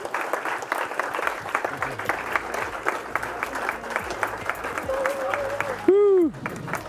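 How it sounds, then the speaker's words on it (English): Sustained audience applause from a large crowd at the close of a live event, dense and steady throughout, with whoops and voices mixed in and a brief loud whistle-like tone near the end. "And a big round of applause"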